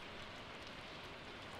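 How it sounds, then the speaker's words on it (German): Steady rain hisses in the video game Stardew Valley, a faint, even wash of falling drops with no pauses and no voices. "es regnet"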